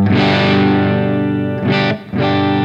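Electric guitar played through a Studio Plexi amp with a thick, saturated distortion: a sustained ringing chord, then two short loud chord stabs near the end, up close with no talk.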